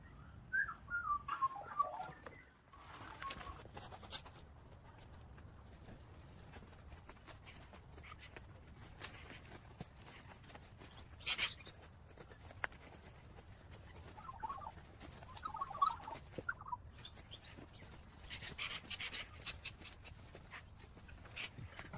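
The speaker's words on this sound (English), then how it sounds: "Check out the magpies, guys." Magpies calling around a rundown city yard, a few short warbling, whistled phrases early on and again later, fairly faint over steady low outdoor background noise.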